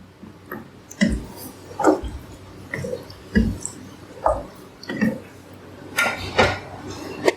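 Yogurt and lemon juice being stirred into mutton in a cooking pot for yakhni pulao, with repeated scraping and clinking of a spoon against the pot in an uneven rhythm, close and moderately loud, with no talk.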